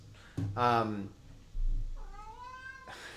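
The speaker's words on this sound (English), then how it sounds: "Sorry about the meowing." A cat meows twice, a short cry then a longer drawn-out meow, close and clear with a faint voice murmuring in between.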